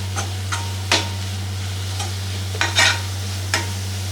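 A spoon scrapes and stirs a jaggery and coconut filling mixed with ground roasted gram in a pan, giving several sharp scraping strokes over a low, steady hum.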